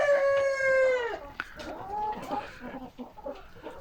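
A chicken gives a long drawn-out squawk, followed by softer clucks and scattered murmurs from nearby fowl.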